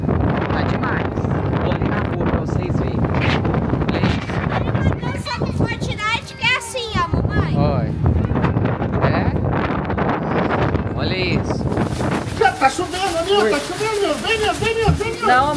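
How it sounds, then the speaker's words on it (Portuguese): Strong hurricane wind gusts roar continuously and loudly into the microphone, buffeting it for the whole stretch, with someone talking over the noise. "As rajadas de vento."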